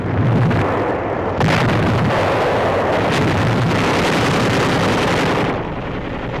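The Corregidor fortress is bombarded by Japanese forces in 1945. Loud, heavy rumbling blasts roll on continuously and close by, mixed with rough wind buffeting on the microphone.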